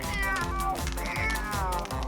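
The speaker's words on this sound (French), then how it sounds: "Ruby a secrètement embarqué un chaton à bord." Kitten meowing repeatedly and loudly, close up, with high drawn-out cries in quick succession filling the short stretch.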